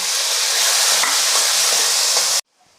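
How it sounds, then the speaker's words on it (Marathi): Finely chopped tomatoes sizzle and hiss while being sautéed in a pan with asafoetida, a loud steady frying sound that stops abruptly near the end. "टोमॅटो आपल्याला मऊ गळेपर्यंत शिजेपर्यंत आपल्याला परतून घ्यायचा आहे"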